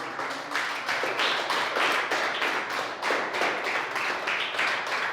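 A church congregation claps in a strong, steady rhythmic beat, loud and close, with distinct repeated hand claps pulsing evenly through the whole stretch and no talk over it.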